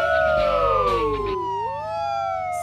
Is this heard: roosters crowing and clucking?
no